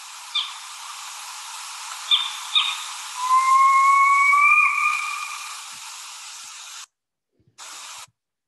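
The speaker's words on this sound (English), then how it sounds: "it sounds like someone whetting or sharpening a saw" Northern saw-whet owl call from an agitated male in the Bitterroot woods, a harsh rasping tone like a saw being sharpened, rising and sustained for a couple of seconds among a few short calls, then a brief faint repeat.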